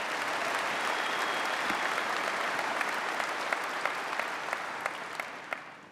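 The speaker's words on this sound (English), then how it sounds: "Let's give them another round of applause." A large audience at the NRA-ILA Leadership Forum in Nashville applauds: a steady wash of many hands clapping, with some louder single claps near the end, then fading away.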